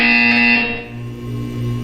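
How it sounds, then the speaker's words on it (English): A buzzer from the video game Portal 2 sounds as a loud, steady electronic tone with bright harmonics. It holds for about half a second, then drops into a lower, fainter hum. "You will hear a buzzer. When you hear the buzzer, look up at the ceiling."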